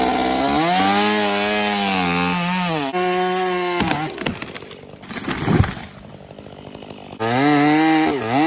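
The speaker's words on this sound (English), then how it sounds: "workers use a chainsaw with a long bar to trim large branches" A long-bar chainsaw trims large branches in a big garden, its engine whining at a steady high pitch, then chattering and rasping as the chain bites into wood before revving smoothly again, loud and close.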